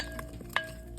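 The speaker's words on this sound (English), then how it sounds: "Just gonna give it a little stir around here" Potatoes in oil and seasoning are stirred in a pan, a brief soft scraping with a faint sizzle and one sharper clink of the utensil, quiet and close.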